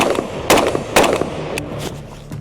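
Two loud, close rifle shots from a Kalashnikov-style rifle chambered in 5.56 (.223), spaced about half a second apart, each followed by a short ringing echo, then a fainter crack as the reverberation fades.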